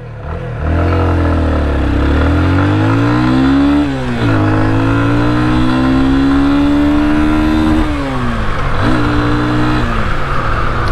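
A Yamaha FZ25 motorcycle pulls hard from first gear in a 0 to 60 run, its engine note climbing steadily through several gear changes, each shift marked by a brief dip before the revs rise again, close and loud throughout.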